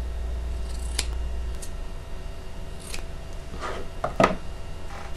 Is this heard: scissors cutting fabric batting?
yes